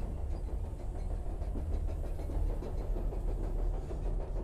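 Steady rumbling run of a moving train inside The Charnel House Trilogy, a low continuous rolling drone with faint rhythmic clatter and a hiss, heard close and alone throughout.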